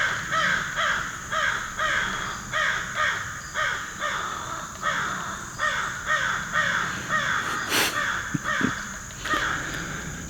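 Crows at Kings Mountain State Park in South Carolina caw repeatedly in loud, rhythmic bursts nearby, a long run of harsh calls with a brief clatter near the end.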